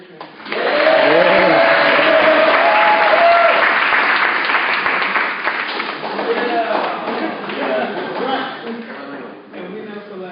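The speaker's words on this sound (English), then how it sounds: "Let's clap it up for Millionaire Team Celeste Richmond." Audience applause at a team event, loud and sustained for most of the clip after a quick rise, then thinning out toward the end.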